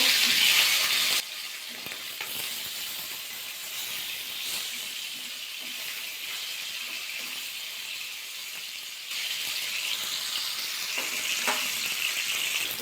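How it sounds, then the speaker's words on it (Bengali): Catla fish fries in hot mustard oil with a loud, continuous sizzle that briefly softens then swells again, punctuated by occasional spatters. "আর এক পিট ভাজা করে নেবো"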